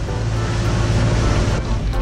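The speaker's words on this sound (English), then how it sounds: "there are waves higher than the boat" Rough sea waves wash around a small boat on the Mediterranean, a steady loud rumble of water and wind without pause.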